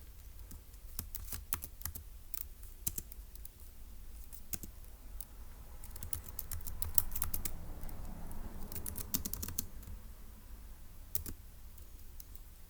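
Notes typed on a computer keyboard during a Turing Machine puzzle session, scattered bursts of quiet, close key clicks with pauses between them over a faint low hum.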